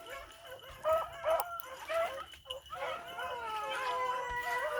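Young beagle hounds in training bay and howl together outdoors, a loose chorus of rising, wavering cries with a few sharper barks, moderately close and continuous through the clip.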